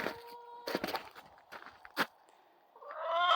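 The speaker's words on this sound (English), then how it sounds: "the chickens are doing well" Chickens cluck nearby in short irregular bursts, with scuffling sounds between and a rising squawk toward the end.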